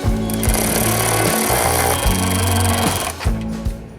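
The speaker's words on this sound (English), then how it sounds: "Partially screw on the bolts." Mechanical whirring from a running board bracket's 13mm bolts being screwed on during a Chevy Silverado installation, a loud continuous buzzing with a rhythmic pulse and short breaks, no voices.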